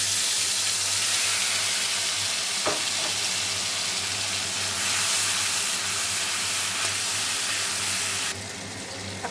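Soaked spice paste hitting hot oil in a pan while cooking rui fish curry, a loud, steady sizzle and hiss that holds throughout, close and continuous with no talking.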